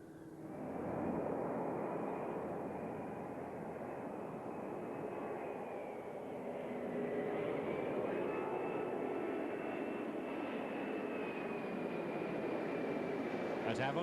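An Airbus A340 four-engine airliner flying at an air show, a steady, loud engine roar that swells and shifts gently in pitch as it passes, with a commentator talking over it.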